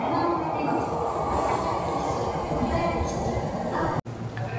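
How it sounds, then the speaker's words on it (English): Interior of a crowded train heading to Osaka station in Japan, a loud, continuous rumble of the moving carriage with rattling, broken by a brief sharp dropout near the end, with voices faintly beneath. "Seems like train will be super packed."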